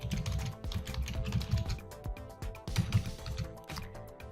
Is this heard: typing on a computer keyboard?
yes